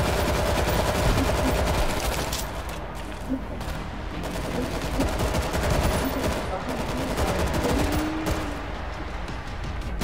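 Dense, continuous gunfire from a World War Z co-op match in Tokyo, rapid overlapping shots over a loud, busy game mix, with faint talk beneath.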